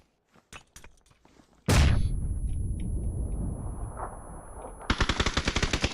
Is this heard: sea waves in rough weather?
no